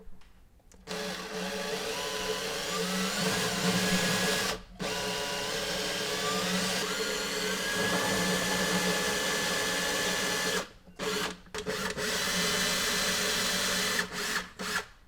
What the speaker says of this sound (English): we will use a drill with a diameter of 5mm